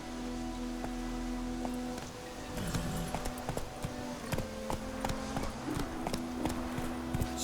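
Roach, the horse in The Witcher 3, trots with steady, even clip-clop hoofbeats over a low continuous hum and light rain-like patter, close and moderately loud.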